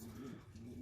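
Pigeons coo softly in breeding nest boxes, a brief low rolling coo heard faintly and close against a quiet background.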